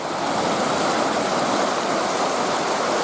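Water rushing under a footbridge near Lake Superior, a loud, steady broadband roar of flowing stream water filling the whole moment with no pauses, close by and continuous.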